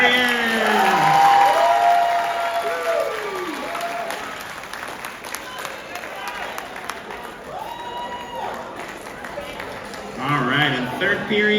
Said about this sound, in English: one more round of applause for Blue Steel